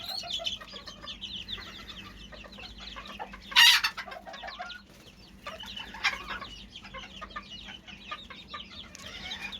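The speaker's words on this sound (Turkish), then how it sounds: "İçinde 4 tane horoz var. Biri çekilişte verildi. 3 tane horoz var. Gerisi tavuk." A flock of hens with three roosters clucks and chatters continuously close by, with a sharper squawk partway through.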